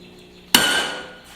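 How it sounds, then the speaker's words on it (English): A single sharp hammer blow drives a cold chisel into a hot steel axe head during forging, a bright metallic strike followed by a ringing decay, close and loud. "I'm actually using a cold chisel because I want to make a more of a slot than a hole."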